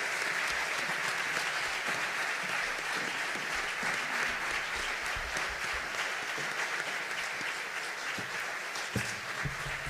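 Loud, continuous applause from a concert crowd, dense clapping that holds steady throughout with a few scattered cheers underneath.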